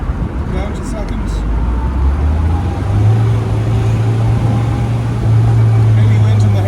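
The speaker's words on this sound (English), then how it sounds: "Lovely rasp off the engine." The engine of a 1961 MGA 1600 rasps steadily while driving, with a rising tone as it shifts through the gears, close and loud under heavy wind rush. Someone talks over it.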